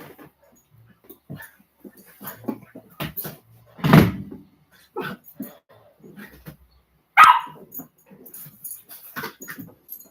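A puppy barks a few times nearby, loud single yaps scattered among softer shuffling and small knocks; the sharpest bark stands out near the end, with light whimpery sounds between.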